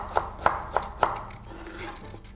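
Small onions being chopped with a knife on a board while preparing vegetables for lasagna: four crisp, evenly spaced chops close up, followed by quiet handling noise.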